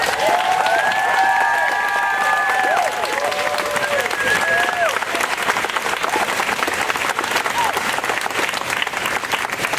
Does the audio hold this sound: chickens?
no